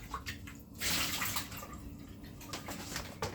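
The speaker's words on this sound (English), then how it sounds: "Just rinsing out my jar." Water runs and splashes while a jar is rinsed out in a kitchen, a steady close rush with a louder gush partway through.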